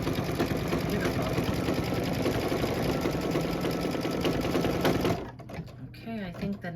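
Embroidery machine sewing a double straight vein stitch on a Kimberbell Save the Date pillow panel, a loud continuous rapid needle rattle that stops abruptly near the end, leaving faint handling noise.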